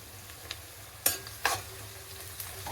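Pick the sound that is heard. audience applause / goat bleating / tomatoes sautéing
tomatoes sautéing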